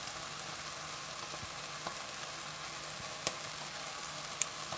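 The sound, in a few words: black trumpet mushroom, bacon and onion jam sizzling over high heat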